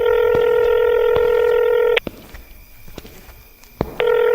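A phone dials the police from a village mansion in a horror drama: long steady dialing tones, a sharp break into near silence, then the tone returns briefly at the end.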